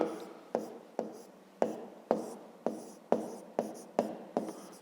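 A pen writes on paper in quick, evenly spaced strokes, about ten sharp scratches sounding close up with brief gaps between them.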